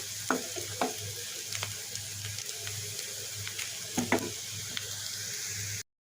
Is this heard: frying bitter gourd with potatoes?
yes